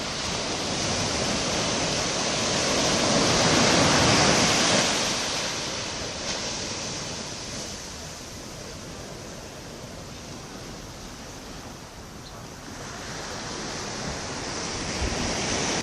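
Waves wash onto a beach at Saint-Paul on Réunion in a steady broadband roar that swells and eases, with wind buffeting the microphone and no talk.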